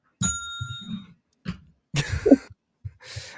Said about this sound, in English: AKA an antique bell.